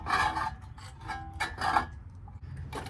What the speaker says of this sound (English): Right now I'm just winding in the piston on the driver's side.